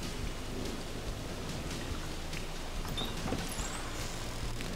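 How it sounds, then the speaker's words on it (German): Steady rain falling on a farm near a cattle barn on a stormy autumn day, a continuous dense hiss of drops on surfaces with a few sharper taps, close and even, no talking. "Wir haben Regen"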